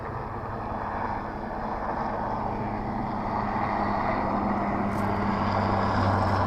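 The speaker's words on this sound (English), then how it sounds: "Oh, there's a helicopter." A steady low mechanical drone of a helicopter flying overhead, constant and fairly loud throughout, growing slightly stronger toward the end.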